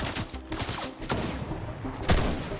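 Gunfire from a video game, loud blasts and bursts amid busy game noise, with one sharper, heavier report near the end.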